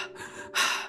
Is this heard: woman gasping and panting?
yes